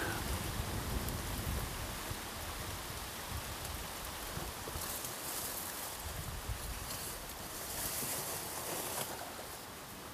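Rain hisses steadily while gusts of wind sweep through during a storm on a river, rising and falling in waves of broadband noise.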